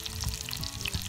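Breaded artichoke pieces, coated in egg and flour and then breadcrumbs, fry in hot oil with a steady close crackling sizzle that stays dense and constant throughout.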